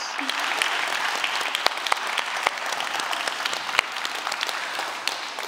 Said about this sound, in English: I would like to give another round of applause to everyone that was involved today